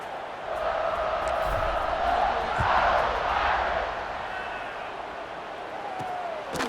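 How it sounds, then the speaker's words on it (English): A stadium crowd in a college football video game, Notre Dame against Penn State on senior night, buzzes as a steady, broad roar with swells and a few sharp shouts rising out of it. "This crowd is buzzing after that last score."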